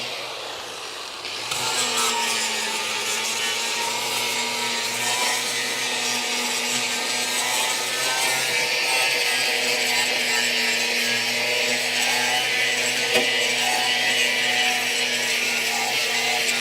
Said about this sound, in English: The flap disc is, yeah, it's starting to go.